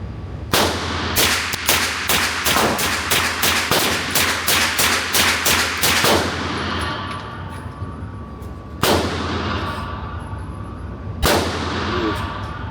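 A Springfield Armory KUNA 9mm pistol-caliber carbine fires a rapid string of about a dozen sharp, loud shots outdoors, followed after a pause by two more single shots with ringing decay.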